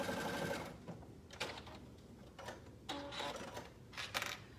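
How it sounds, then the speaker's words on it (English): A regular sewing machine stitches the side seam of a pair of shorts in several short bursts of rapid mechanical whirring separated by brief pauses, heard close up. "here is the side seam now sewn with the regular sewing machine"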